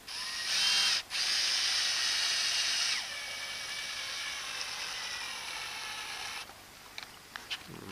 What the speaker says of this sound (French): Vous prenez un embout Torx et vous vissez l'ensemble sur la paroi.